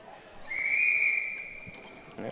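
A referee's whistle at a hockey championship game between the Saints and Power Play: one long steady blast of about 1.5 seconds over arena crowd murmur, fading out, followed by a brief thump.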